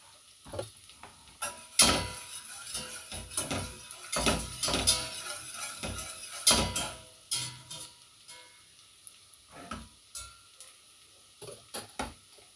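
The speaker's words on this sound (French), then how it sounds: "Je vais faire fondre un petit peu l'échalote dans le beurre." Shallot softening in melting butter in a pan gives a steady soft sizzle, broken by repeated clinks and scrapes of a utensil stirring.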